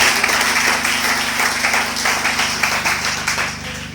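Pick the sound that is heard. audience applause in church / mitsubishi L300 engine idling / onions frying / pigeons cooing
audience applause in church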